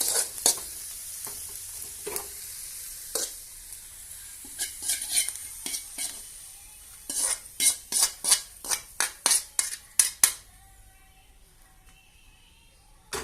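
Pirandai (adamant creeper) sautéing in oil in a pan, a soft steady sizzle broken by scraping spatula strokes that come sparse at first and then in a quick rhythmic run near the end before it settles.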